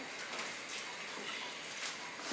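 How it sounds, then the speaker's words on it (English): Water pours steadily from a cup into a soup pot of corn chowder or bean, cheese and bacon soup, a faint continuous splashing gush with no talking. "I'm going to add a cup of water."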